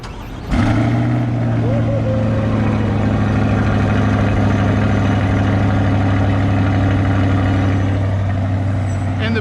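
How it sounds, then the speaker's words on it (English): A brand-new Torch Red 2020 Chevrolet C8 Corvette fires up for the first time, a sudden catch followed by a steady, loud, deep idle that holds evenly close by for several seconds. "First start of my brand new C8 Corvette."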